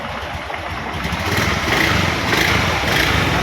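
A motorcycle engine converted from fuel injection to a carburetor starts and runs, a steady, loud, buzzing idle that swells slightly after the first second and holds close and continuous without any speech.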